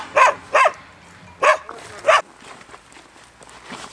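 Dogs near a shepherd's hut along the Jordan Trail bark four times in sharp, loud bursts, then quieter yips and footsteps follow in the open air.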